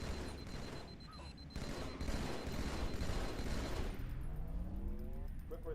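Gunfire in the Halo 2 video game, with bursts of rapid shots and booming impacts crackling through a busy battle, followed by electronic weapon sweeps near the end.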